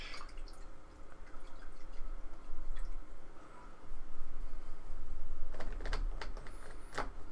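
A paintbrush is swished and rinsed in a water pot during acrylic painting, with a steady watery churn and a burst of quick dripping taps near the end.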